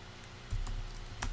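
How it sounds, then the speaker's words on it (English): Typing on a computer keyboard produces a few soft, scattered key clicks at close range, quiet over a low background hum, with no voices. "When it's in this configuration where it's highlighted, you can just start typing."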